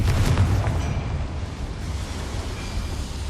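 A Confringo blasting curse detonates in Hogwarts Legacy, a deep rumbling boom with a gritty low roar that swells at the start and then settles into a sustained, steady rumble.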